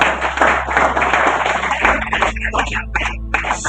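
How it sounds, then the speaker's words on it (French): A church congregation claps for a woman pastor, a lively, close burst of applause with loud overlapping hand claps running throughout. "Est-ce qu'on peut applaudir pour elle?"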